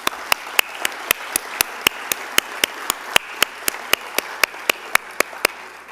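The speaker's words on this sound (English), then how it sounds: "Let's give them all a round of applause." An audience at an evening event applauds with sharp, evenly spaced claps at a steady rhythm, fairly close and loud, with no talking.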